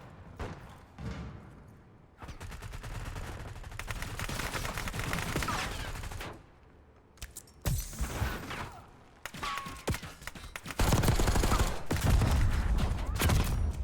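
Bursts of automatic gunfire in a Black Ops 6 multiplayer match, loud and close, coming in several clusters separated by short lulls, with thumps and mechanical clatter mixed in.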